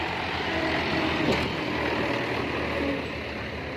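A Bison tipper truck drives past on a road, its steady engine drone and rumble holding close and fairly loud before easing off near the end, with no clear speech.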